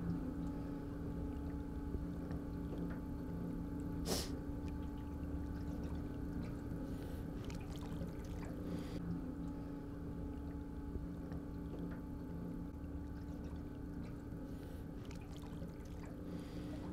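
An outboard motor running on high pushes an old 12 ft aluminum jon boat along a river, a steady continuous drone with water wash and a single sharp knock partway through.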